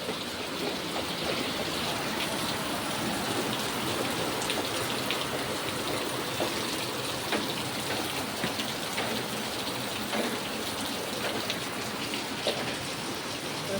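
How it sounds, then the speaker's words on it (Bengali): Heavy rain pours down in a steady, dense hiss with scattered droplet patters, continuous and close, with no voices. "দেখতেই পাচ্ছ বন্ধুরা কেমন বৃষ্টি হচ্ছে প্রচণ্ড বৃষ্টি হচ্ছে"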